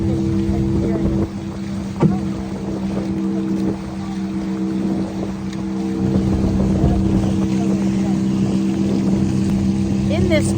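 Steady motorboat engine drone with wind buffeting the microphone, continuous and close throughout, with occasional voices under the engine noise.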